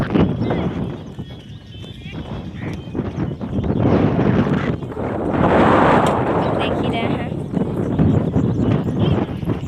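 Wind blows outdoors near a forest, a steady, gusty rumble buffeting the microphone throughout while someone talks over it.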